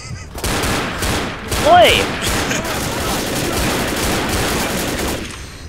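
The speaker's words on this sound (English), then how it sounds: "Boom, headshot." Rapid gunfire in the zombie shooter Left 4 Dead, a loud cluster of shots followed by sustained firing, with a brief shout over the noise.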